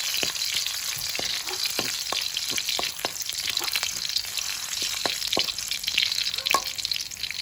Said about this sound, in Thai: เราก็ใส่กระเทียมเลยเราก็เจียวกระเทียมก่อน